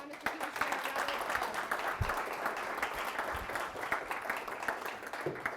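Audience applause for Mr. Petersen, a room of law students clapping steadily throughout, moderately close, with scattered louder claps and some low murmuring underneath.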